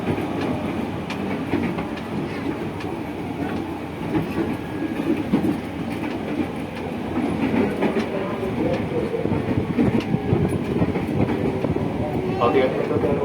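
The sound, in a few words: JR 205 series VVVF commuter train running, KRL Commuter Line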